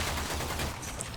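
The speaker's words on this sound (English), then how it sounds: "The ZEPHYR nosedives towards the ground, creating an explosion on contact." Explosive blast from the Zephyr's Dive Bomb ability in Warframe, a dense burst of gunfire-like crackle that holds loud and steady for about a second, with no voices.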